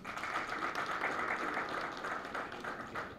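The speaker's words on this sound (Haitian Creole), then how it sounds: "nous demandons un gros applaudissement pour eux s'il vous plaît" A crowd applauds steadily at a football federation gathering honouring 1974 World Cup players and the U17 squad, the clapping dense and sustained throughout without pause.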